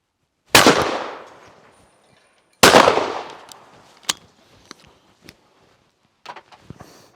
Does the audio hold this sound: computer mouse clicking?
no